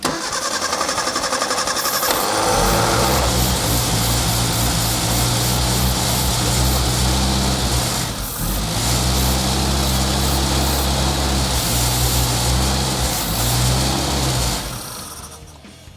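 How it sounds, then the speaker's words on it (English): The engine of a Mini car runs loud and steady after starting while gunk burns off the back of the engine, a constant mechanical roar that holds for most of the stretch before cutting off near the end. "Started to get a bit smoky, burning some gunk off the back of the engine, so Simon hit it with some brake cleaner, and then we tried again"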